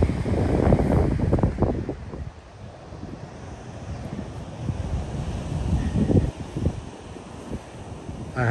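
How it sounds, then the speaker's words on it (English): Arctic breeze buffeting a microphone on the exposed southernmost coast of South Australia, steady broadband wind rush with heavier low gusts at the start and again near the end, no voices. "That Arctic breeze is starting to subside"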